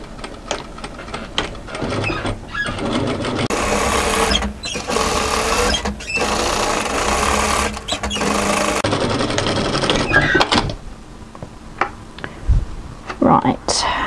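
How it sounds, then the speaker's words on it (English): A sewing machine sews the lower front of a tunic, running in long steady mechanical stretches close by with brief pauses, while someone talks over it. "Now let's sew the lower front."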